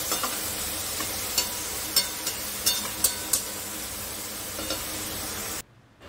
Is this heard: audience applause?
no